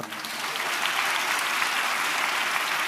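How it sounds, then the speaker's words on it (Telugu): A church congregation applauding loudly during a sermon, a dense, steady roar of many hands clapping close by, sustained throughout with no talk. "అరే గట్టిగా చప్పట్లు కొట్ట."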